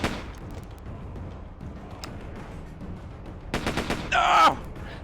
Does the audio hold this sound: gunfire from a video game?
yes